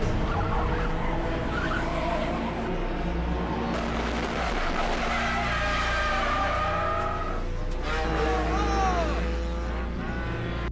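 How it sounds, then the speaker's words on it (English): A race car spins out on the track, its tires skidding and squealing amid loud engine roar from other cars, with commentary over it. "Car 3 spins out again, right in the path of Ryan Hoffman"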